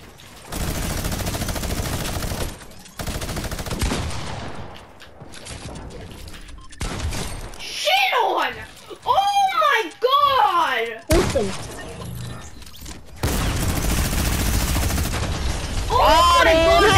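Drum gun and minigun fire in a video game, loud bursts of rapid automatic shots with breaks between them, mixed with shattering sounds and excited talking over the top.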